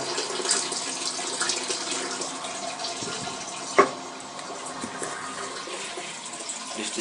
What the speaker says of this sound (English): Tank filling up.